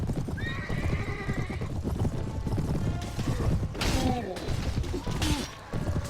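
Horses in the Mount & Blade Warband mod A Clash of Kings clatter along with steady clip-clopping hooves, while loud whinnies ring out twice over the busy battlefield din.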